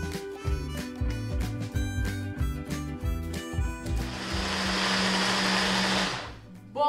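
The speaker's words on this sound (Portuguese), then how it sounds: "depende da potência do seu processador, talvez dure até uns 15 minutos batendo" A food processor grinds sesame seeds into tahini, first in choppy, pulsing bursts with rattling seeds, then running as a steady loud whirring roar before cutting off abruptly, close up and without talk.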